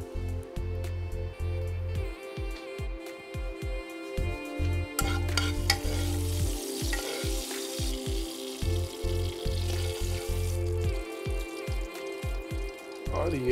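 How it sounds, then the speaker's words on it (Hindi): Red chili for a tadka sizzles in hot oil with the induction hob switched off, a steady close-up crackle and fizz with stirring clinks and irregular scraping throughout. "इंडक्शन करते हैं बंद, इसमें डालते हैं थोड़ी सी लाल मिर्च फॉर रंग।"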